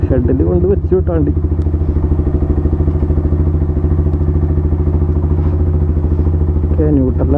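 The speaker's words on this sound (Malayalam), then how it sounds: "സൗണ്ട് കേട്ടോ ബാക്കിൽ കട്ട കട്ട കട്ട കട്ട എന്ന് പറഞ്ഞ സൗണ്ട് കേട്ടോ" A KTM Duke 390 idling in neutral in a shed runs with a loud, steady, rapid clattering knock throughout, and someone speaks over the engine at the start and again near the end.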